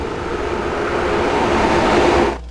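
Train passing a rural station in autumn, a loud continuous rumble and rush that holds steady, then cuts off abruptly near the end, with no voices.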